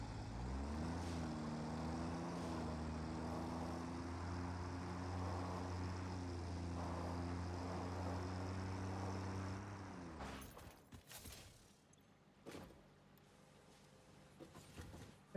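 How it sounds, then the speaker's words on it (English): A tractor engine drones steadily with a rising, layered tone in the game Satisfactory, then cuts off around ten seconds, leaving scattered clicks and thumps. "Here's a tractor, and let's go."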